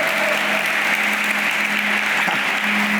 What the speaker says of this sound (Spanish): ¿Alguien puede aplaudir a aquel que venció al mundo?